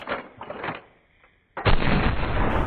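A Winchester rifle shot rings out loud and sudden after a near-silent gap, following some earlier clattering and ending in a sustained, roaring echo.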